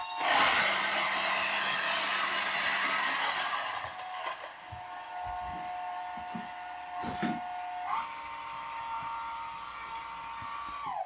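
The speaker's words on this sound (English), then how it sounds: "we grind at espresso grind, not filter coffee grind, but espresso grind" A Lagom 01 single-dosing coffee grinder grinds 18 grams of beans at espresso fineness with a high-speed motor and large burrs, giving a loud, steady whirring drone that shifts in pitch as the load eases near the end.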